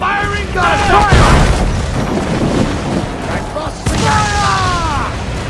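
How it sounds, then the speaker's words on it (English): Cannons on a sailing warship fire a volley in the pirate game Assassin's Creed 4 Black Flag, booming blasts rolling over continuous battle din, with shouted crew voices and whistling shot sounds layered on top. "They are firing guns!"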